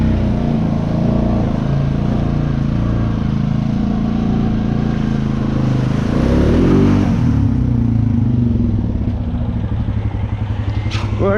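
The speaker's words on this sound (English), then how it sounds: "That sand had the tires spinning." An off-road vehicle on nearly flat, low-pressure tires spins in creek sand. The engine drones loud and close, surges in a strained rev midway, then falls to a rougher, rattling idle.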